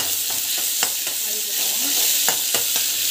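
Onions sautéing in a pan, with bright continuous sizzling close up and occasional light scrapes and taps of a stirring utensil against the pan.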